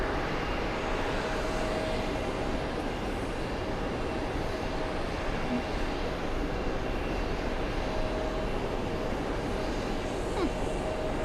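A Nigerian military Gulfstream jet taxis on an airport surface, its engines a steady, distant whine and rumble under constant background noise, with no distinct surges.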